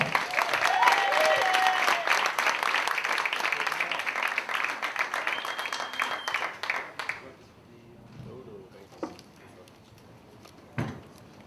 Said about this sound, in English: There's a noise for Mel Novit, everybody. Clap it up.